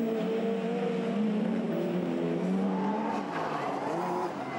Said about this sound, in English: The 306 kit car going for the Joker lap.